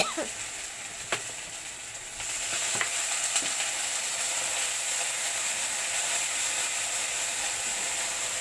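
Cumin seeds and ground spices fry in hot oil while a spatula scrapes and stirs the pan, a steady bright sizzle with a few sharp scraping clicks, growing slightly louder partway through.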